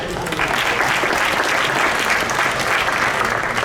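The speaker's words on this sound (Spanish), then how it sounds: "aplausos para él" Steady, dense audience applause fills the hall at a centenary tribute event for Victoria Santa Cruz, loud and continuous for its whole length with no talking over it.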